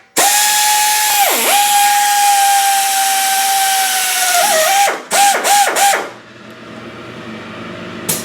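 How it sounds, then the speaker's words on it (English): A power drill whines at a steady high pitch drilling a 1/8 inch pilot hole, dips briefly, then revs up and down in several quick bursts before stopping, leaving a low hum. "I'm going to drill a 1/8 inch pilot hole"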